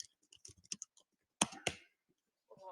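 A computer keyboard clicks faintly in quiet surroundings, with short irregular bursts of keystrokes and a couple of sharper taps.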